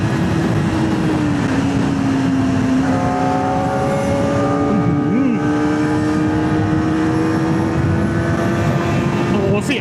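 A Kawasaki Ninja ZX-4R SE motorcycle engine revs hard and steadily on a ride, its high-pitched wail climbing through the rpm range amid constant loud wind and road rush, with no talk over it.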